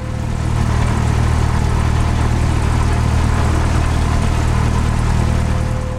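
The engine of a Cessna 172 light airplane idles just after start, giving a loud, constant, rumbling drone with a steady hum that holds level throughout, close up and with no talk.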